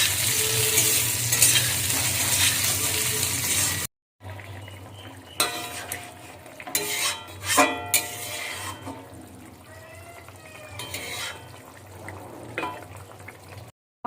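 Potatoes frying in a pan for a fish curry, with a steady close sizzle and bursts of clatter as they are stirred, broken by a short silent gap near the start.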